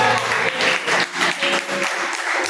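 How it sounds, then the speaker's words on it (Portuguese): Church congregation applauding during an evening sermon, a loud roomy burst of clapping that swells and dips in waves, with a faint sustained tone underneath and no clear speech. "Aplauda o nome do Senhor Jesus."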